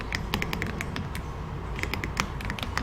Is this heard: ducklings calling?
no